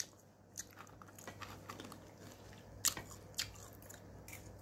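A young child chews crunchy dried anchovies, faint close crunches and bites scattered irregularly over a quiet indoor background, with a couple of sharper crisp snaps.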